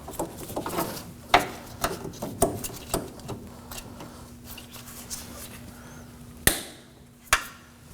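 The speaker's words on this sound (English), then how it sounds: "Using a pair of cutters," Cutters snip the end off a steering rack bellows clamp on a 2014-2020 Acura MDX, giving a few sharp close clicks and snaps amid quieter handling noises.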